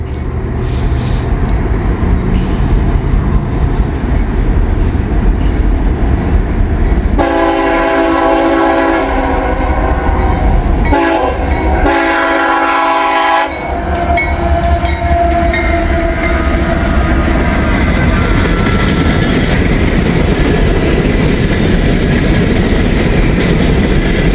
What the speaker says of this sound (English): Farthest from looks like either an empty coal train